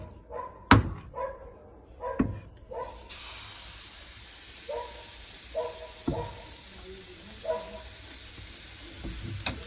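Crepe batter hits a lightly oiled frying pan, a few sharp knocks and clatters followed by a steady soft sizzle and hiss that carries on to the end, with faint background noises.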